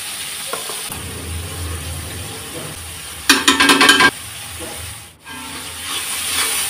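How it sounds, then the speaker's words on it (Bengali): Salted dried hilsa fish head being sautéed with spices in a pot, with a steady low sizzle and a brief burst of sharp crackling stirring in the middle before the frying settles back. "সব মশলা দিয়ে আমি একটু হালকা কষিয়ে নেব"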